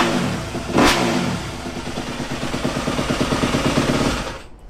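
A Yamaha YZ250F dirt bike engine runs close and loud, giving a quick rev burst before settling into a steady, rapid throbbing idle that cuts off at the end.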